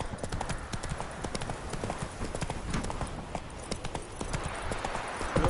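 Roach, a horse in a video game, trots with rapid, steady hoof clip-clops, close and continuous, under a faint background of game ambience.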